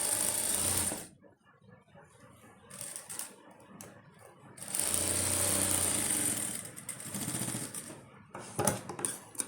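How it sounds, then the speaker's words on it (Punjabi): A sewing machine runs a seam on a kurti, with a whirring burst at the start and a longer stretch of stitching in the middle. Quieter handling noises fill the gaps, and a faint voice may be underneath. "ਇਸ ਤਰ੍ਹਾਂ ਆਪਾਂ ਸੀਨ ਲਾ ਲਈ ਹੈ"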